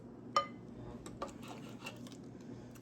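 Plates and cutlery clink while a no-stove crock pot dinner is plated up, a sharp metallic clink opening a few lighter taps and scrapes over a steady kitchen hum, close and without speech.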